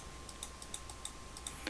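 A handful of soft, quiet keyboard key presses, irregularly spaced, over a faint steady hum.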